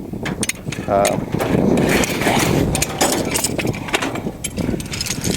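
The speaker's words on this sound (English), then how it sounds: "This is just a come along. It's used to pull our cables tight." A come-along ratchet tightens hopyard cables with repeated mechanical clicking and pulling, close and fairly loud, as a person talks over it.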